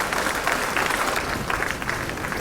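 Dense, steady applause from a large audience at a Jharkhand government ceremony handing out teacher and department appointment letters, a continuous rush of many hands clapping with no break.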